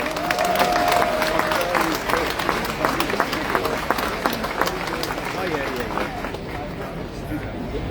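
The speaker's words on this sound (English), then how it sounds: "A big round of applause, everybody." Sustained clapping from a crowd at an outdoor Free Palestine rally in Melbourne, steady and fairly loud, with a murmur of voices mixed in throughout.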